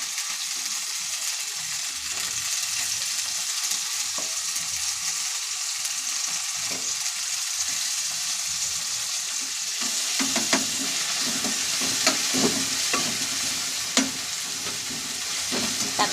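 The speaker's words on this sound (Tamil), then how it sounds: "தக்காளி நல்லா வதங்கணும்." Chopped tomatoes with salt sauté in a pan, giving a soft, steady sizzle for the first stretch. Louder stirring scrapes and clinks join in near the end. The sound stays fairly quiet and close, with no speech.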